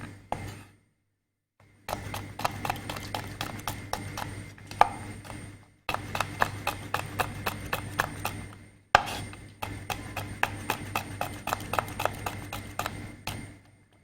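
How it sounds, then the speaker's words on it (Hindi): Almonds and pistachios being chopped by hand with a knife on a board for garnish, in three bursts of rapid, steady, close chopping separated by short pauses, with a low background hum. "थोड़े से बादाम पिस्ते मैं यहाँ पे गार्निश के लिए काटूंगी।"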